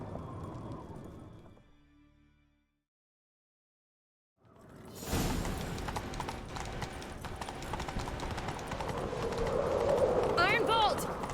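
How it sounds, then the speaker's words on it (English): A horse gallops in The Witcher 3, steady clip-clop hoofbeats with game sounds and some noise, after quieter sound and a brief silent gap; a whinny-like sound comes near the end. "Grab a horse, we'll chase him down."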